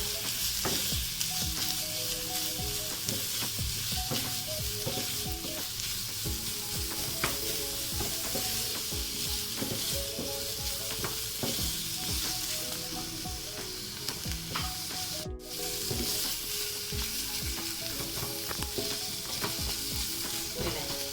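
Garlic ginger paste and chopped aromatics sauté in a pan for layered chicken pasta, giving a steady, close sizzle with frequent stirring scrapes and a faint tonal background running throughout.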